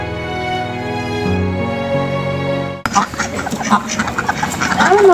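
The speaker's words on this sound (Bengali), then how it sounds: "গ্রাম বাংলার হাঁস মুরগি পশু পাখিদের কেচিরমিচির শব্দ কতই না সুন্দর" Village ducks quack in a noisy, overlapping chatter that starts suddenly after a sustained tonal sound and carries on fairly close and loud.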